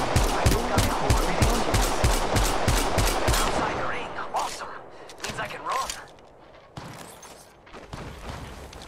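Automatic gunfire in the Apex Legends video game: a rapid, loud, evenly spaced burst of shots for about three and a half seconds, then scattered single shots, thuds and game effects, with a voice speaking under it.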